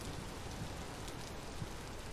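Steady, dense rain from a thunderstorm in the survival game Vintage Story, a constant hiss of falling drops near and loud with no distinct thunderclap and no voices.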